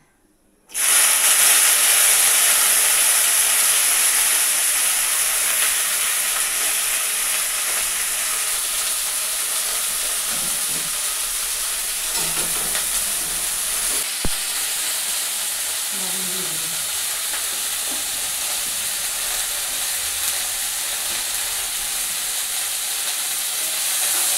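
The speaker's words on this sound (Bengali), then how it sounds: "তেলটা বেশি করে জিরাটা ফুটে গেছে।" Cumin seeds sizzling in plenty of hot oil for a Bengali dhenki shak chorchori, a loud steady hiss that starts abruptly and holds unbroken, close and alone.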